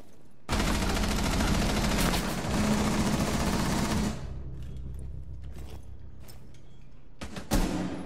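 Gunfire in a Rainbow Six match: a loud, dense burst of rapid shots runs for several seconds, then a few sharp isolated shots and mechanical clacks follow as the noise dies down.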